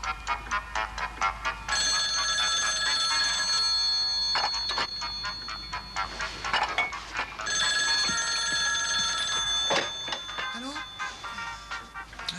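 A telephone rings in repeated electronic bursts, a steady patterned tone cycling over several seconds at moderate loudness, with a voice speaking at times over it.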